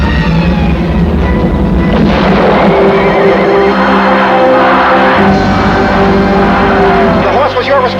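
Racehorse neighing amid busy, continuous background noise, with other sounds layered throughout the stretch and a steady loud level.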